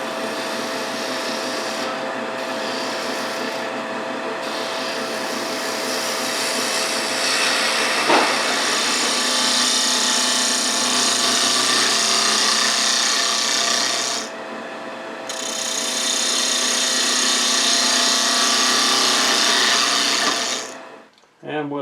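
Wood turning on a lathe with a 3/8 inch spindle gouge makes a continuous scraping, rasping hiss close by over the steady whine of the spinning lathe, pausing briefly midway before cutting off at the end.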